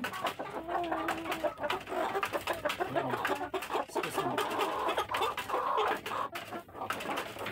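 Free-range Dominant 102 chickens cluck and chatter continuously, several birds close by in a busy flock with overlapping calls.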